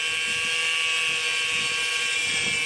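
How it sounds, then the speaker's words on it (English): Steel rebar being cut with a power tool gives a steady, high-pitched whining grind with a constant tonal buzz, continuous and fairly loud, no speech. "let's get started cutting some rebar"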